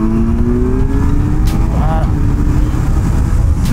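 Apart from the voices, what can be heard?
motorcycle accelerating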